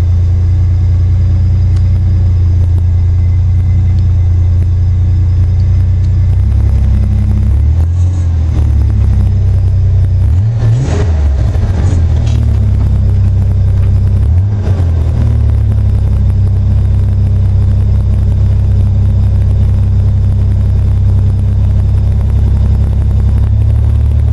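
A 1982 GMC S15 truck engine idles after a cold start, a steady low rumble running throughout, with a couple of brief swells in engine note partway through; no one speaks.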